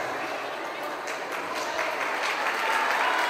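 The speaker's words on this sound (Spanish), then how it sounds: "el mejor reconocimiento es ese aplauso de ustedes" Audience applause at a kindergarten community gathering, a dense, steady patter of many hands that swells slightly louder toward the end, with no talking over it.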